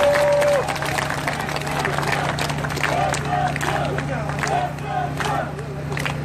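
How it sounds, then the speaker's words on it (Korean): A crowd at an outdoor South Korean election campaign rally at a market claps and cheers, a scattered rattle of applause and shouts over a steady low hum, with voices in the mix. "큰 박수로 힘을 보태주십시오"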